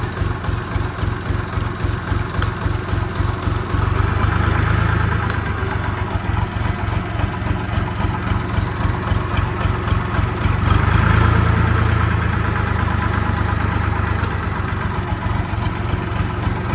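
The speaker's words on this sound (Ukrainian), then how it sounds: "запускається зі щепленням" A 2025 DMTZ 244 compact tractor engine running at idle, a loud steady diesel chug with a rhythmic pulse that swells twice as revs briefly rise, no speech.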